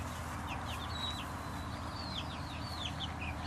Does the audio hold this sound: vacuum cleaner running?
no